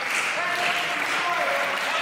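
A wrestling crowd at a Paul Malen versus HC Dyer match cheers and applauds in a steady, dense roar, with some voices mixed in.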